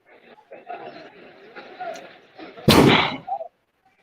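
A firework explodes loudly indoors-adjacent during a bonfire night display, a sharp broadband blast with a short rumbling tail following a stretch of people chattering in the room.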